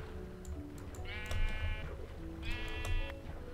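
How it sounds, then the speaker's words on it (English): Sheep in a video game bleat twice, two distinct drawn-out bleats about a second apart over steady low background hum. "So hopefully this sheep will give us some wool."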